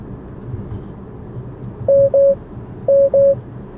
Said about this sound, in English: I wonder if we're gonna have two beeps or one beep this time.